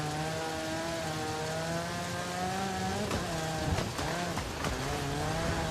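Rally car in Forza Horizon 5 driving over bumpy terrain, a steady loud engine drone with shifting revs and a few rough jolts and thumps partway through.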